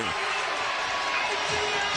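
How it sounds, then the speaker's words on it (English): Basketball arena crowd on its feet cheering for the Atlanta Hawks during a playoff game against the Miami Heat, a loud continuous roar with whoops, under a commentator's talk. "The crowd is on their feet, making a lot of noise to try to help the Hawks here"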